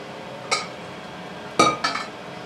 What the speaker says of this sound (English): Give that a nice stir through.